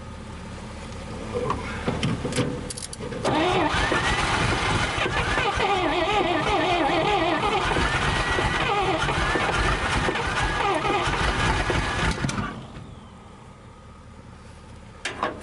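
A 1962 Dodge 100 pickup, started for the first time in 25 years, roars loudly and steadily for about nine seconds before cutting out, leaving a quieter background.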